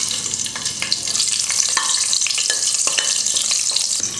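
Whole spices such as cloves, star anise, cardamom and bay leaf fry in hot oil with green chillies for Ambur chicken biryani, giving a steady loud sizzle with light stirring knocks and no talk.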